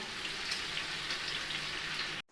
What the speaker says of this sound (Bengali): একইভাবে বাকি পকোড়াগুলো ভেজে নেব